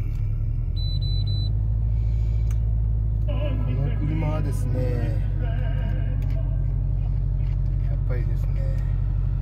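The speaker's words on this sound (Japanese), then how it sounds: "さあエンジンかけます。" A Subaru WRX S206 engine runs at a steady, loud low idle with a deep continuous rumble heard from inside the car, while someone talks over it.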